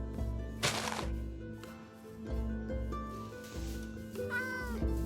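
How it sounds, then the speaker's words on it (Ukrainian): Cat meows from the Minecraft video game sound in short separate calls amid game noises and soft background music, fairly quiet with no speech over them. "Так, то кицька. То була кицька."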